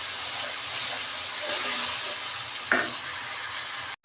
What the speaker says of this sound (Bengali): মশলার পেস্টটা দিয়ে সুন্দর করে পেঁয়াজ আর কাঁচা ঝালের সাথে মিশিয়ে নিতে হবে।